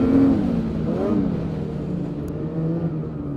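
A 2026 Ski-Doo full-size snowmobile engine revs and pulls, its droning note rising and wavering at moderate loudness without reaching full throttle.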